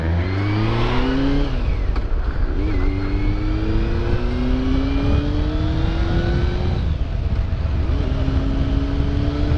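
A 2004 Honda CBF 600 S motorcycle engine while riding, revs climbing in repeated smooth pulls between gear changes, close and loud over steady wind rush, with no talking.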